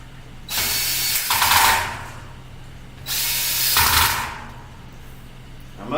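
Two bursts of a power drill driving screws into a platform bed rail, each about a second long with a rising, grinding pitch, separated by a short pause.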